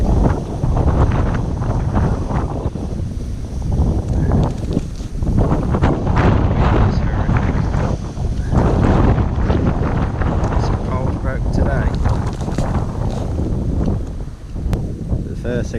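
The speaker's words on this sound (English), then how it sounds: "I just think it's too windy for a back shot." Strong wind buffeting a microphone at a lakeside open fishing match, continuous loud gusting rumble with rises and dips throughout, while someone talks intermittently.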